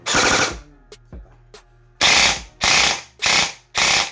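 An upgraded, high-speed Lancer Tactical airsoft rifle with a noisy gearbox rips off short full-auto bursts, a few clicks between, then four rapid bursts in steady succession, loud and close.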